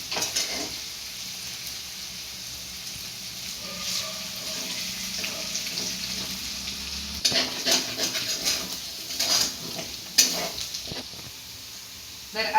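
Potatoes, green chillies and cumin frying in oil in a pan: a steady soft sizzle underneath, with scattered stirring scrapes and clinks growing busier toward the end, close and fairly quiet.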